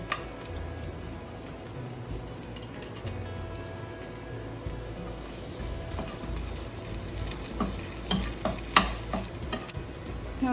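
Spices sizzle and fry in hot ghee and oil left over from frying fish, with steady crackling and sporadic stirring scrapes that grow busier and louder toward the end, no talking.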